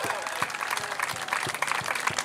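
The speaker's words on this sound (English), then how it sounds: "Give him a big, big round of applause." Spectators clap and cheer for a runner finishing the Bideford 10k road race, a steady burst of applause from a roadside crowd with a voice talking over it.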